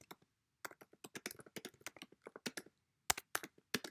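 Quick, irregular bursts of typing on a computer keyboard, crisp close key taps with short pauses and a few louder strikes.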